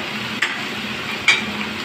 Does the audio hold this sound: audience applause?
no